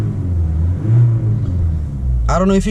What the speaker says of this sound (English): It's a quiet little diesel engine car.